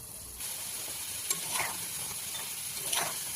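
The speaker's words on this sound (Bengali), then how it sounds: "এখানে আমি এবার ছোট ছোট করে বড়ার আকারে ভেজে নেব।" Small bora fritters of papaya and potato batter fry in hot oil in a wok, a steady close sizzle with a couple of brief scraping stirs.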